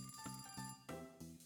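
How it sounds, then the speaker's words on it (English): A telephone rings in a video game with a repeated electronic ringtone in regular bursts, clear and unbroken by talk. "Phone's ringing."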